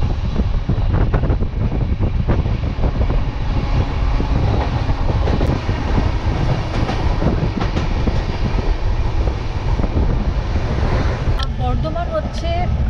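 Ananya Express train in motion, heard from inside a sleeper class coach: a steady, loud rumble with rattling and clatter throughout, with some faint talking in the carriage.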